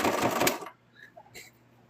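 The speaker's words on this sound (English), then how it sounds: "I'm going to make the stitch just a little bit smaller for this back stitching." A sewing machine back stitching on a plush toy runs in a short, dense burst of rapid stitching that stops abruptly, followed by near quiet.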